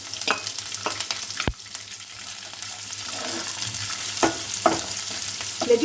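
Chopped onion sizzles and fries in a pan, a steady hiss with scattered clicks and scrapes of stirring, one sharp knock early on, heard up close with no talking.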